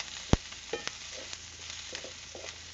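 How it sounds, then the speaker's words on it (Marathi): Thinly sliced onion sautés in a pan with a soft, faint sizzle, broken by a sharp knock and a few light stirring scrapes. "कांदा सुद्धा आहे ना चांगलंच परतायला पाहिजे."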